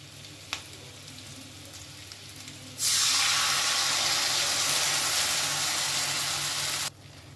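Thin leftover chili gobi batter thinned with water is poured into a hot pan, bursting into a loud, steady sizzle that holds for about four seconds and then cuts off abruptly, with quieter kitchen background before and after.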